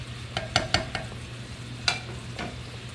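Bacon cooks in its own rendered fat in a pan for frijoles borrachos, a soft, steady sizzle with several sharp utensil clinks and scrapes against the pan, heard without any talking.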